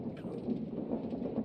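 Thunder rumbles through a heavy Minecraft storm in Vault Hunters, a low steady roll under continuous rain, moderate and with no voices.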